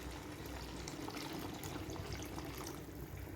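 Water poured into rice inside a pressure cooker while making oyster mushroom biryani, a steady continuous splash and trickle at close range with no voices.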